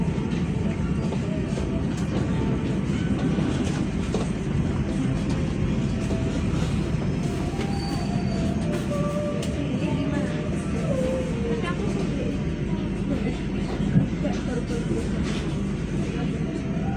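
An economy-class KA Banyubiru train runs steadily on its rails, giving a continuous low rumble and rolling noise with faint squeals, while voices murmur now and then.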